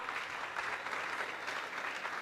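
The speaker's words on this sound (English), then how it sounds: "If you want to clap, clap." Applause from an audience at a live training session, a dense, even patter of many hands clapping at moderate distance, sustained without pause and fairly quiet overall.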